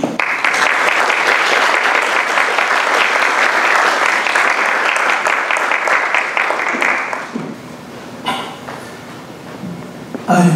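An audience applauds warmly for Professor Umemori Naoyuki before a lecture on Japanese intellectual history: dense, steady clapping for about seven seconds, then thinning to a few scattered claps in a quieter hall.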